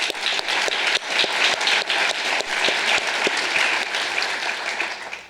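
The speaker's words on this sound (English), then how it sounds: "A round of applause for Tim." An audience at a community foundation's annual meeting gives a round of applause, with many hands clapping in a full, steady burst that holds for several seconds before easing slightly at the end.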